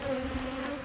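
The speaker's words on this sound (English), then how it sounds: "So these bees are just going to follow me for a bit." Steady insect buzzing from honey bees around Layens hives, a continuous droning hum that fills the short moment without pause, fairly close.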